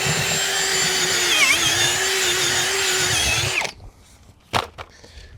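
A cordless drill fitted with an auger bores into dense California clay soil for tree planting. Its motor whines steadily and loudly for several seconds, then cuts out, followed by a few brief scrapes and knocks.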